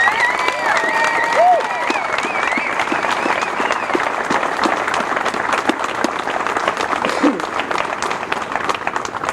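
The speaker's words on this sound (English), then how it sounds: "Please join me in a round of applause for the West Palm Beach Fire Department, the West Palm Beach Police Department, and all first responders" Crowd applause and cheering honoring the West Palm Beach fire and police departments and first responders at a 9/11 memorial stair climb event, dense steady clapping throughout with scattered whistles and voices.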